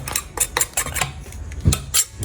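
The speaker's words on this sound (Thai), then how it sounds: "แล้วเราก็ตักพักใส่ถ้วยไว้นะครับ" A spoon clinks and scrapes against a mortar and bowl while scooping pounded garlic paste, a quick series of light metallic taps and scrapes, close and clear with no talking.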